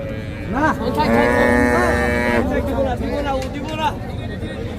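A local dairy cow at the Hazratpur cattle market in Dhaka moos loudly and close by, two drawn-out calls over a murmur of people talking.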